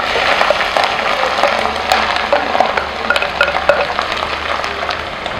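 Onions fry in fragrant oil, a loud, close, crackling sizzle with quick spattering pops and stirring throughout, no voices.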